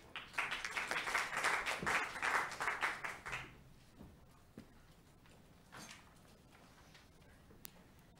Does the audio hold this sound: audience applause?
yes